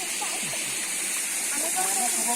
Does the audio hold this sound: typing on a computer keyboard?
no